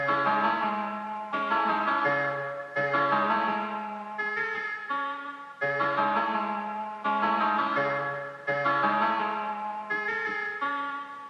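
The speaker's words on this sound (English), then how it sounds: "I used the Venom Haze preset, which is like kind of a bell or like a piano." A bright synth melody using the Venom Haze preset, with bell-like, piano-ish tones, repeats a looping chord pattern, each note ringing and decaying, steady and alone.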